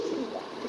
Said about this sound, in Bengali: এটা বাইরের কবুতর ভাই